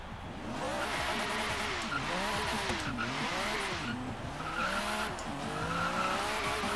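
A drift-tuned car of about 600 horsepower in Forza Horizon 3 drives with a sustained, sweeping engine drone that rises and falls through the gears, joined by steady tire squeal, loud and close throughout.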